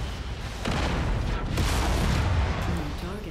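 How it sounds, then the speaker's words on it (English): An ammunition explosion on a mech in the video game MechWarrior 5 erupts as heavy booming blasts with rumbling bursts, loud and close within an ongoing battle din. "Ammo explosion?"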